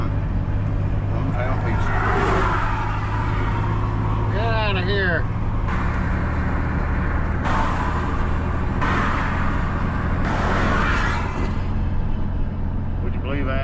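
A pickup truck engine runs steadily while driving on a highway, a constant low rumble with road noise throughout, as someone talks over it.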